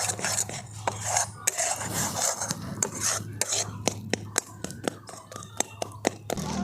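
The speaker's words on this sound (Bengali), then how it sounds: "এরপরে গুঁড়ো দুধটা দিয়েও খুব ভালো করে মিশিয়ে নেব।" A spoon works milk powder into mango pulp in a pan for a mango sweet, giving repeated sharp clicks and scrapes against the metal in an uneven rhythm, close and moderately loud over a faint rustling background.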